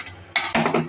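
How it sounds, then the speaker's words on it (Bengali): Metal lid set onto a pot of rasgulla in sugar syrup, a couple of close clattering knocks and scrapes of the lid settling, loud and brief. "এখন আমি মিষ্টিগুলা আস্তে করে ঢেলে দেবো, এখন দিয়ে আমি একটা ঢাকনা দিয়ে দেবো"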